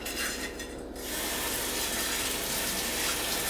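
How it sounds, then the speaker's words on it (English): Tap water runs steadily into a single kitchen sink while plates are rinsed one at a time over a wash basin, a continuous close hiss with faint clinks and no voices. "I have to use a wash basin and rinse the plates off individually as I go."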